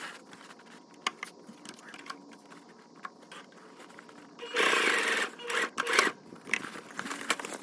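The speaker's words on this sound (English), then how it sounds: "I'm just gonna stitch right on top of the existing stitching here and here" A sewing machine stitches webbing onto awning fabric, heard faintly at first and then in a louder rapid whirring burst partway through, followed by a few shorter runs, close by and with no talking.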